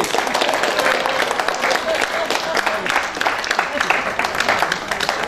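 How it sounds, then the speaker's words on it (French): Audience applause at a St. Nicholas gathering for elders, a dense, steady clapping that fills the room for several seconds, with voices mixed in beneath it. "On applaudit bien fort."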